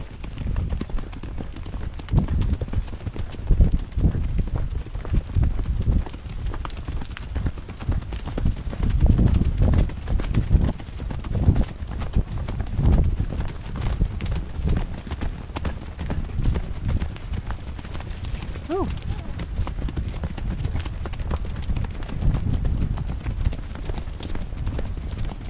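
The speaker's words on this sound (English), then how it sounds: "So many horses down there." Many horses clip-clop below, their hooves clattering in a dense, continuous patter with a brief whinny partway through, while faint voices murmur now and then.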